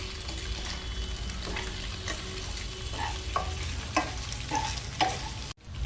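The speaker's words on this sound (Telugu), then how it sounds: "ఇప్పుడు ఎగ్ వేగింది. కొంచెం లైట్గా సాల్ట్ వేద్దాం. ఇప్పుడు పాస్తా వేసుకుందాం." Pasta stir-frying with egg in a pan makes a continuous close sizzle, with repeated scraping and tapping of a spatula as it is stirred, ending in a brief clunk.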